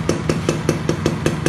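A Suzuki Best RR110 two-stroke motorcycle idles nearby, a quick, even chain of sharp pops at roughly four per second over a low hum, moderately loud with no talk.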